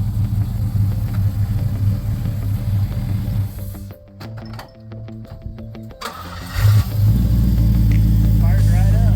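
An LS-swapped Chevrolet C10 truck engine idles roughly and unevenly, with a loud low rumble that dips midway and then swells back up. Voices talk over the running engine.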